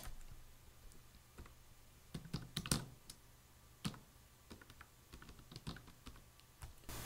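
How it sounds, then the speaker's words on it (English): Keys clacking on a computer keyboard as names are entered into a wedding jotter design in CorelDRAW, with irregular bursts of close, crisp taps and short pauses over a faint low hum. "Then I'll type the couple names"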